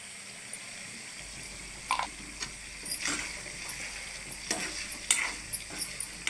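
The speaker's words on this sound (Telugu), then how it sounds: "కరివేపాకు బాగా కలిసేలా కలిపేసుకోవాలి" Green chillies and curry leaves frying in spices in a pan and being stirred: a steady close sizzle with scattered scraping and tapping from the stirring, no talking.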